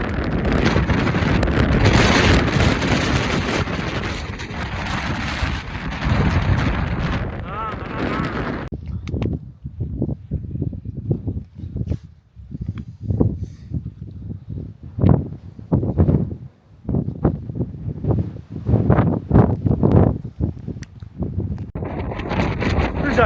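Strong wind on a hill summit in the Drumochter hills roars across the microphone in a heavy, continuous buffeting rush, then breaks into gusty bursts while people talk loudly over it.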